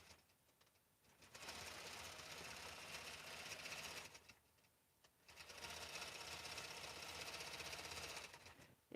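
Computerized embroidery machine stitching a quilt design, running in two long steady bursts with a quiet pause between them, fairly faint and without talk.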